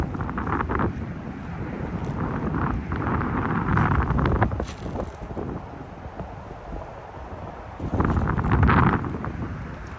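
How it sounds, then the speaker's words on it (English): Wind gusts buffet a headset microphone outdoors on a rockhounding walk, a loud continuous rumble that swells and eases across the whole stretch. "That wind blowing."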